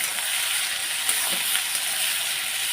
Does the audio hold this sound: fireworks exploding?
no